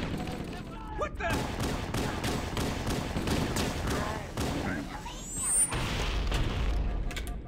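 Grenade blast in Halo: Combat Evolved, a loud low boom amid a steady stream of game gunfire and impacts, with a voice talking over the action.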